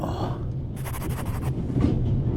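A steady low rumble of a train interior in The Raven video game, with a brief rhythmic rattling burst partway through, continuous and moderately loud.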